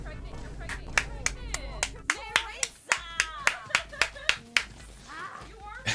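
Rhythmic hand clapping from a World of Warcraft game character, a dozen or so sharp, evenly spaced claps over a low background hum with voices and game sounds mixed in.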